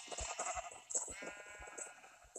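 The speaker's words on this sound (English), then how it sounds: "And now it counts how many sheep I shear." Sheep in Minecraft bleat repeatedly while being sheared, short quick calls over a steady high background tone, fairly faint and close together.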